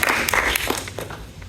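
An audience gives a short round of applause: a dense burst of clapping at moderate volume that thins out and fades over about a second and a half.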